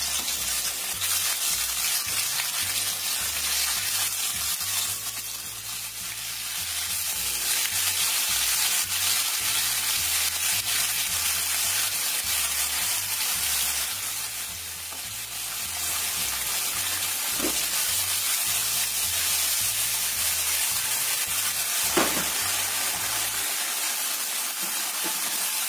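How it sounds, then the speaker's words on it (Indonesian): Tofu frying in a modest amount of hot oil, a steady close sizzle and crackle running throughout with a low rhythmic hum underneath and a few brief clinks, no voices. "Kita goreng dulu tahunya ya."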